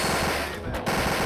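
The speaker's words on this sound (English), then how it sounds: "Well, it's not a minigun, it's like an MG, I guess." Rapid machine-gun fire in the Wolfenstein 3D mod Totenkopf, a steady automatic burst with a brief drop in the middle, loud and close in a game mix.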